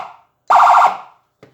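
A Soundoff ETSA462HPP dual-tone siren played through two Whelen speakers gives a loud, close, warbling wail lasting under half a second, with short fainter bursts of tone before and after it.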